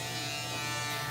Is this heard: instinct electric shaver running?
yes